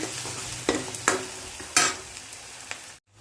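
Onion frying in a pan gives a continuous close sizzle, broken by a few sharp spoon scrapes and clinks as it is stirred, then cuts off abruptly near the end.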